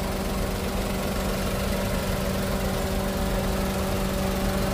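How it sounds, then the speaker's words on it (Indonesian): A Daihatsu Sigra's 1000cc three-cylinder, 67 PS engine idles with a steady, even hum and faint mechanical vibration, heard up close and alone, with no talking. "Mesinnya yang ini 1000cc, 3 silinder, 67 PS, 9 kgm."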